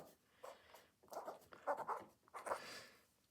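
A fountain pen loaded with Daytone blue ink scratches faintly across paper in several short, close strokes with brief pauses between them.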